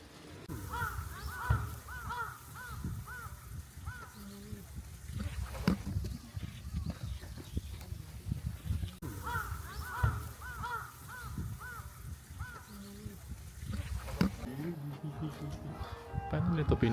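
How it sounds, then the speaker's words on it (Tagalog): Crows cawing in repeated harsh calls, sounding in two bursts of several caws each, medium distance, over steady outdoor noise while a person talks. "napaka-common dito ng uwak"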